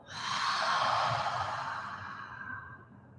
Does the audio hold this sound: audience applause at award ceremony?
no